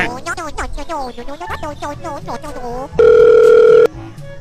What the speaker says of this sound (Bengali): বাবার ফোনে ফোন চলে এসছে